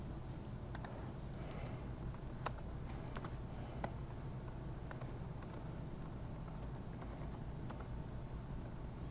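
Typing on a computer keyboard to enter a password, a quiet stream of scattered key clicks with a few sharper taps over a steady low room hum, no talking.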